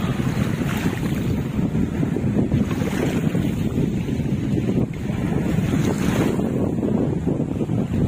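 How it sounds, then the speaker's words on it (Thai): Strong waves churn along a coast with deep water nearby, heard as a steady, dense roar of surf mixed with heavy wind buffeting the microphone, continuous and without talk. "อยู่น้ำลึกด้วยครับคลื่นก็แรง"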